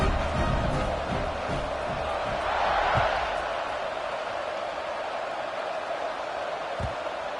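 A football stadium crowd at a Penn State vs UCLA game keeps up a steady, distant roar throughout, swelling slightly for a moment near the middle, with occasional faint thumps.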